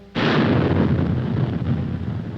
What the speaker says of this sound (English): there's always a terrific explosion